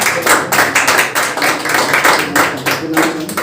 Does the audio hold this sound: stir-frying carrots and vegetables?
no